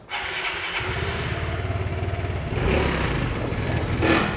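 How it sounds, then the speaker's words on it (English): A Vespa GTS 300 Super scooter engine on its center stand idles with a rapid putter, then revs up higher a couple of times, close by. "I can rev the engine all the way up as high."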